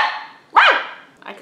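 A single bark close to the mic, fairly loud and short, most likely a person imitating a dog, set between quieter voiced sounds.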